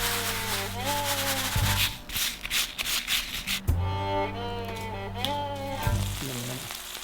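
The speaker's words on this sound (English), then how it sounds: "Just a quick sear on these, less than a minute." Steaks, seasoned simply with Lawry's pepper, get a quick sear in a hot pan, a steady sizzle running under prominent background music with no talk.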